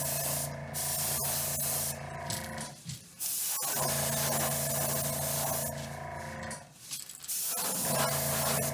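A spray gun lays pearlized magenta paint over a black base coat in three long hissing bursts with short pauses between, close and steady.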